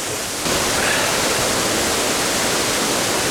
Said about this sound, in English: I like seeing the waterfall anyway.